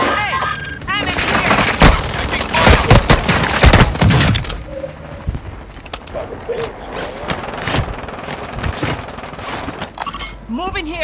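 Rapid gunfire and heavy booms from a Call of Duty: Modern Warfare II multiplayer match, loud and dense with sharp bursts and crashes, voices talking over the fighting.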